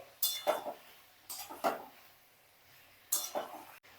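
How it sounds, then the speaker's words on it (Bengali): Vegetables and spices being stir-fried in a pan for shukto, with a utensil clinking and scraping against the pan in short, irregular bursts separated by quiet pauses, fairly faint. "এইগুলোকে দিয়ে আমি একটু কষিয়ে নেব সব সবজি আর মশলাটাকে"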